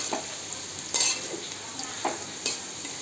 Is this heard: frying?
yes